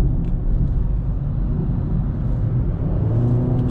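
Honda City 2020 petrol CVT car accelerating in sport mode, a steady low engine drone and road rumble heard from inside the cabin.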